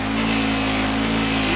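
A motor-driven polishing wheel buffing aluminum hums steadily with a strong, even drone and harmonic whine, held just below stalling under load, loud and continuous throughout.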